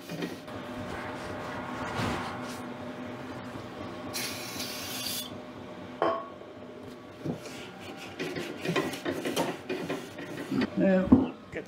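Scrubbing and spraying grease off the rubber drive wheel of an Ariens snow blower, with soft rubbing, a short spray burst and scattered clicks and knocks of handling the parts close by.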